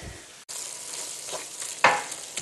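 Tomatoes cook in a pan for eggplant moussaka, giving a steady close sizzle with soft frying crackle and a few light stirring scrapes, no talking.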